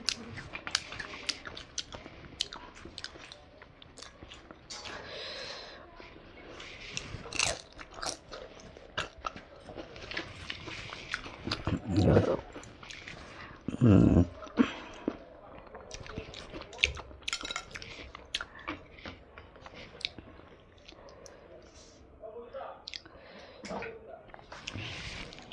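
Close-up chewing and biting of spicy egg curry with rice, with wet crunchy bites and smacking sounds irregularly spread over the clip, plus occasional clinks and a few louder, heavier chomps midway.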